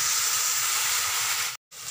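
Besan chilla batter poured onto a hot oiled pan, a loud close steady sizzling hiss that cuts out abruptly for a moment near the end and then resumes more faintly.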